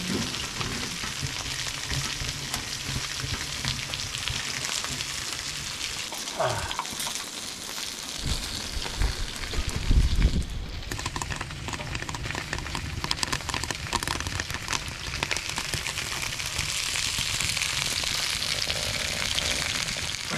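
Sausages frying in a pan on a hot tent stove during a winter storm, a steady close sizzle and crackle running throughout with occasional scraping and stirring, largely without talk.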